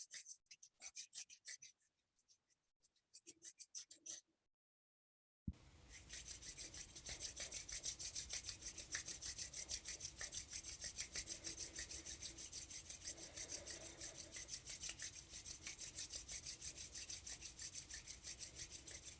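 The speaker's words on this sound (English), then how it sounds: "Let's rub the palms against each other." Palms of the hands rub briskly together during a Kundalini yoga warm-up, a close, steady dry rasping swish that starts after a short silence and continues evenly; soft rustles come before it.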